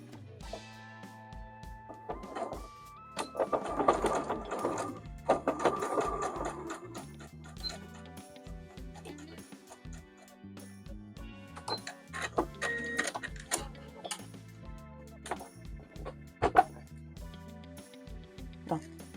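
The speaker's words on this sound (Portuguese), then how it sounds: "Vamos dobrar ao meio e vamos fazer uma costura com a margem do calcador, rematando no início e no fim." A domestic sewing machine runs a straight seam along a folded fabric strip for a small coin purse, with stop-and-start bursts of rapid mechanical stitching at close range over a low motor hum.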